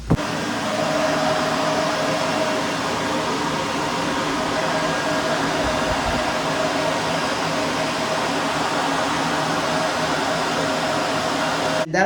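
Shark upright vacuum cleaner running with its brush roll engaged, a loud, steady close-up roar and whir that holds evenly for the whole stretch with no talking.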